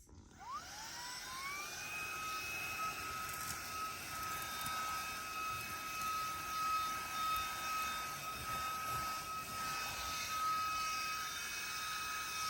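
A compact bullet-style car and household vacuum cleaner spins up and then runs with a steady, high-pitched motor whine and airy suction roar, held close and continuous.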